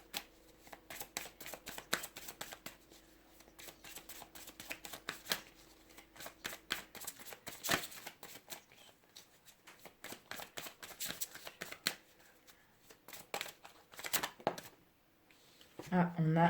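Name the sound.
tarot cards being shuffled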